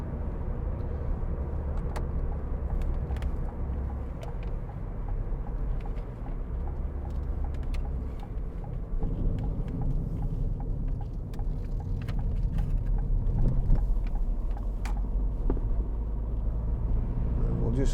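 A 2012 Ford Fiesta 1.4 TDCi diesel hatchback driving along, its engine and road rumble a steady low drone from inside the cabin, with light rattles and a voice speaking throughout.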